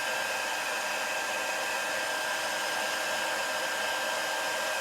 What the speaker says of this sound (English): And you'll find as the heat gun warms up, it all goes a lot quicker